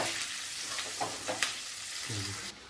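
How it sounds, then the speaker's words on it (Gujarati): Chopped chillies fry in a pan for baingan bharta, a steady close sizzle with a few soft scrapes of stirring. "નાખીશું અંદર આપણે સુધારેલા મરચાં હવે એને થોડું મિક્સ કરી લઈશું અને શેકાવા દઈશું"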